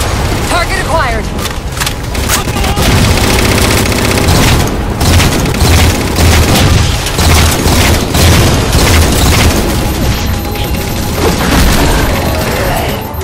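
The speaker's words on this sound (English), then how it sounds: "Target those phantoms for the railgun to shoot down." A railgun fires on Phantom dropships in a Halo 4 campaign battle, loud booming blasts and bursts of gunfire layered over dense combat noise, with voices speaking amid the din.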